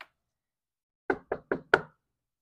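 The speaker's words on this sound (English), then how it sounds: "I'm actually going to knock because knocking's different." Four quick, firm knocks on a door in an even rhythm, close and clear, after a brief silence.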